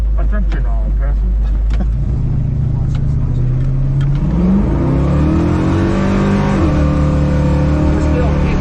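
A mild-built car's engine revs hard and climbs through the gears on a drive out from a speed shop, loud and close throughout, with passengers talking over it.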